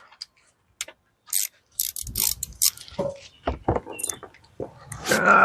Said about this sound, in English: Get the ratchet.